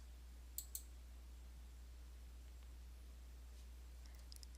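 Two quick, crisp mouse clicks close together, faint against a low steady hum, followed by a few tiny ticks near the end, while a Blackboard Build Test button is being clicked.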